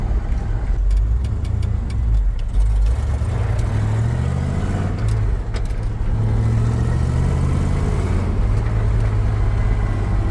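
A 1960s Chevrolet Impala engine runs steadily in gear with the clutch barely disengaging, a loud, close, continuous low rumble with slight rises in revs and no talking.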